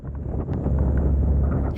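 Strong wind at sea near North Sea wind turbines, a loud low rumbling roar buffeting the microphone, continuous across the moment with no voices.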